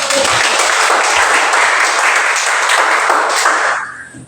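A classroom of students breaks into loud, dense clapping, sustained and even for several seconds before tapering off quickly at the end.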